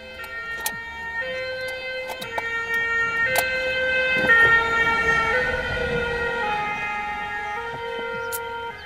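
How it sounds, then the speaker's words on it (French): A fire engine siren passes along a street outside a home, its wailing tones loud and steady, swelling as the truck approaches and easing as it moves off. "il y a les pompiers qui vont passer"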